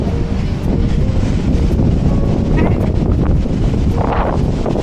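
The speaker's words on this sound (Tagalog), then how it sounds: "Pero mahangin pa rin" Strong wind roars steadily across the microphone, a loud, continuous rumbling buffet with no pauses.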